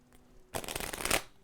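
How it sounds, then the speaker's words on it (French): A deck of playing cards being cut twice and then shuffled, a crisp burst of riffling paper flutter lasting under a second, close and loud against a quiet room. "je vais juste venir couper le jeu une première fois, une seconde fois et je vais venir le mélanger un peu"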